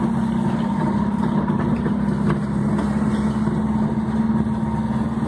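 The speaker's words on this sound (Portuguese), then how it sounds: "O carro é uma Brasília" An old Volkswagen Brasília engine runs at a steady low hum on a rural farm road in Minas Gerais, a constant mid-pitched drone with no talk.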